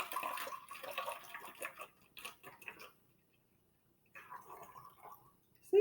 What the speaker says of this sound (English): And I'm going to use another tool, a funnel, to put the vinegar in the bottle.